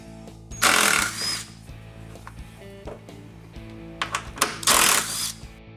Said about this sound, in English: Now let's remove the 2 bolts in the bag well.